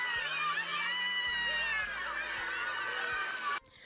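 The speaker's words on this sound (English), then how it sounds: "Jeep continues to rev through crowd." Loud, dense crowd noise of people screaming and shouting as a Jeep revs its engine while pushing through a crowd of protesters, with a deep engine drone underneath, cutting off abruptly near the end.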